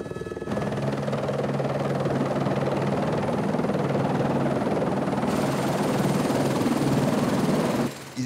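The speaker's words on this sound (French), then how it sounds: "Pour gagner le bateau, plusieurs rotations d'hélicoptère sont nécessaires." A helicopter ferrying people out to the ship Astrolabe across polar ice gives a loud, continuous rotor thrum and engine whine that holds steady throughout, close by and alone.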